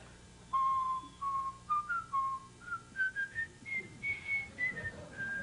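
A jazz harmonica player whistles a bright, lilting tune alone on a 1980s late-night TV show, a string of clear rising and falling notes in a quiet room.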